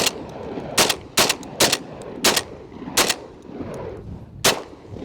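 Semi-automatic shotgun firing birdshot, a series of about eight sharp, loud blasts at uneven intervals, some in quick pairs, with no talking.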